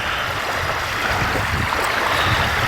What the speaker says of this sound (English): the waves lapping on the shore sound beautiful